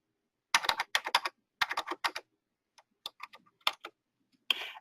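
A date is typed on a computer keyboard in quick bursts of close, crisp key clicks, a dense run first, then sparser taps ending in a firmer keystroke, with no talk.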